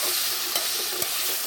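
Ackee and saltfish sizzle in a pot with a steady bright hiss, while two quick scrapes of a spoon stir the mixture.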